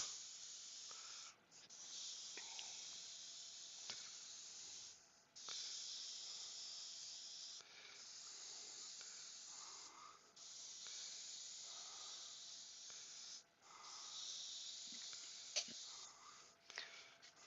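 An airbrush sprays blue paint onto a turned wooden piece, giving a soft, steady hiss in repeated bursts of a few seconds each, separated by brief pauses.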